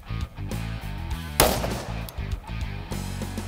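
A .450 SMC handgun fires rounds in a sharp sequence of loud close reports, with one especially strong blast near the middle and several quicker cracks around it.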